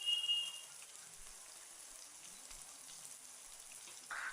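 Urad dal dropped into hot oil, a faint, steady fine crackle and hiss of frying that continues evenly throughout, quiet and close with no talking.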